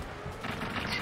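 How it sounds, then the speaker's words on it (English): Gunfire from War Thunder, a combat game with aircraft such as the A-20G bomber, as a player strafes the ground: a faint, fast run of shots crackles in uneven bursts behind quiet game noise. "Jason's just shooting the ground."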